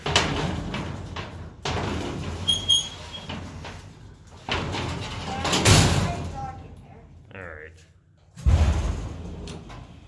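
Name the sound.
inner door of vintage 1963 Eastern hydraulic freight elevator closing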